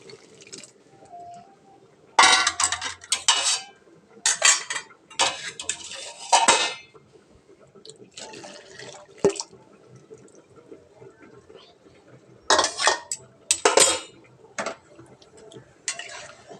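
Khichuri being stirred in a metal pot after fried cashews and raisins go in, with bursts of loud clanking and scraping of the spoon against the pot separated by quieter pauses.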